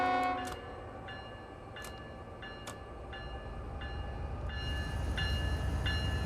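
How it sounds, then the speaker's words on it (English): A freight train in the Train Sim World 5 game rolls out toward Barstow, its steady low rumble building as a few short tonal horn-like blasts and clicks sound over the top. "We've got a decent sized train"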